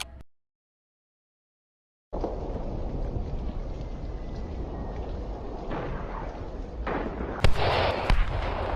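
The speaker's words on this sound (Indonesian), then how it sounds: "Terjadi baku tembak antara Belanda dan TKR." Gunfire exchange sound effect staged for a school colonial-era battle drama, a dense continuous roar of shots and blasts after a short silence, with a few sharper cracks near the end.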